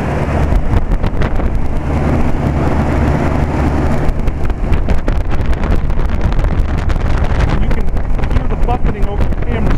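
A 1973 General Electric central air conditioner runs outdoors on a hot day, a steady loud rumbling hum with whooshing fan discharge and wind buffeting on the microphone throughout.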